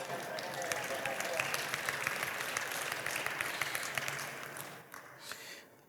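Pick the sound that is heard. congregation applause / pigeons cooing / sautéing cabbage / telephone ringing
congregation applause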